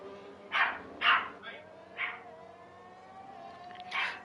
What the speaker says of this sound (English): I do apologise for all the barking.